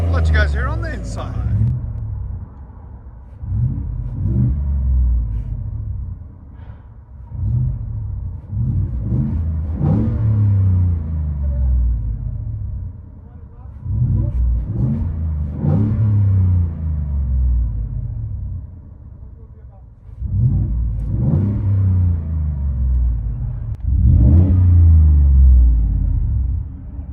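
Exhaust of a 2022 Ford F-150 pickup heard from inside the cab, with repeated deep revving swells and rumbling low pulses rising and falling over about two dozen seconds, loud and close, with speech mixed in.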